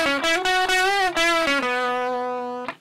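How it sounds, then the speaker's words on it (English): An electric guitar played through an OD808 overdrive pedal rings out crunchy distorted notes, a few picked tones followed by a sustained chord that decays, loud and alone. "All right, you've got some distortion right there."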